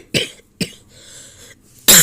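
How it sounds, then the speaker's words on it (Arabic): A woman coughs in a kitchen while cooking: two sharp coughs close together, then a softer, drawn-out breath, and a final harsh burst at the end. "عندي كحة اليومين دول"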